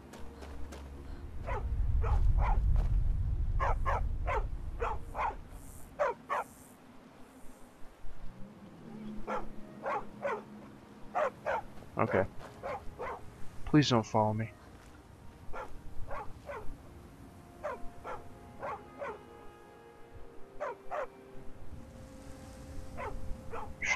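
A dog barks repeatedly in a Skyrim game world, a series of sharp, short barks spread through the scene with someone talking over it and low ambient rumble beneath.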